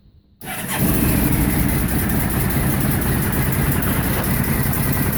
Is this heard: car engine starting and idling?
yes